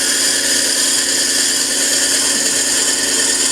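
A drill with a 1-inch bit bores into a wooden peppermill blank at about 400 to 500 RPM, producing a loud, steady, continuous whirring grind that stays close and unbroken throughout.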